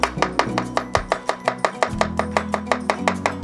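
Garlic chopped in a hand chopper for cream pasta, a rapid, even run of loud, close chopping taps, roughly five or six per second, with no talk.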